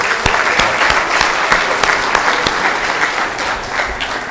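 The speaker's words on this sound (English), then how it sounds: "Again, a round of applause for the speakers, but more importantly for yourself for being here and listening to us." Audience at a live conference on CPEC applauding the speakers, steady dense clapping throughout with a few sharper individual claps standing out, loud and close.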